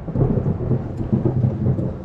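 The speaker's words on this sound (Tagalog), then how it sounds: "Kumukulabog ang kidlat at ang kulog." Thunder rumbling during a storm at sea, a deep rolling boom that swells and pulses continuously with rain hiss in the background, fairly loud and close.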